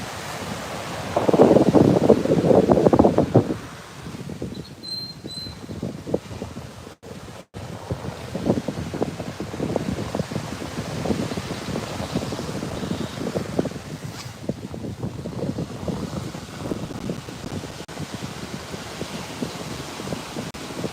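Steady wind blows around a beach lifeguard tower in Playa del Carmen, Mexico at sunrise, with surf washing below; a brief gust thumps the microphone at the start, then a continuous rushing roar carries on with no talking.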